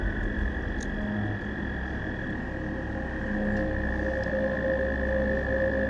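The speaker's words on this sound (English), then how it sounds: "there's a bunch of frogs chirping, making some noise" Frogs call steadily by a pond in Salem, Massachusetts, a continuous droning chorus of croaks at moderate loudness with no pauses and no other prominent sounds.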